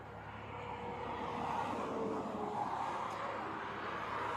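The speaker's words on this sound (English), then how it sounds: "A lot of cars going" Steady traffic noise from vehicles passing on a road, a continuous broad rush at moderate level with no distinct breaks.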